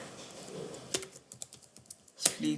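Quick, uneven taps on a computer keyboard, several close key clicks in short bursts with brief pauses between, alone without talking.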